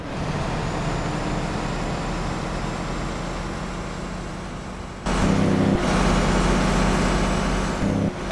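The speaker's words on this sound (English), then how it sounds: "Floating through my gears with the jake brake activated." Engine of a Cat CT660 truck with jake brake in American Truck Simulator, a steady loud drone that jumps into a harsher, louder pulsing roar partway through as gears change, no voices.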